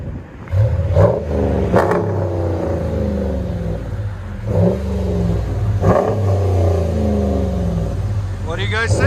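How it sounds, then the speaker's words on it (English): A RAM 1500 pickup with a 5.7L HEMI V8 and a Black Widow Venom race muffler revs in several loud, deep bursts close by. Its rumbling idle sits between the revs, and someone talks over it. "Venom race muffler."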